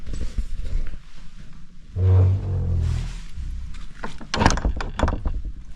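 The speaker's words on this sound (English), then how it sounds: "Make sure you shut the door" Door of a remote hillside bothy being pulled shut, giving a dull heavy thud followed a moment later by a sharper rattling knock, close by amid faint outdoor ambience.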